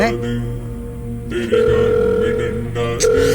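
A telephone rings out without being picked up: a steady electronic ring tone sounds loud in long bursts with a short gap, over a low continuous background drone.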